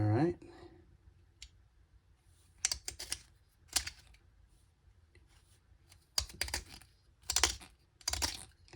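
A handheld violin peg shaper shaves a wooden violin peg, giving short scraping cuts in irregular bursts at close range, the blade chattering slightly, with quiet gaps between strokes.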